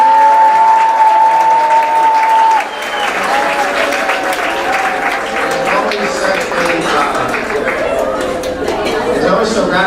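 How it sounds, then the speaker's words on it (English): Loud, sustained applause from a banquet audience for a young company, dense clapping that fills the room for the whole stretch, with chatter and cheering mixed in and a voice or tone held over the opening seconds. "How about another round of applause for the young company?"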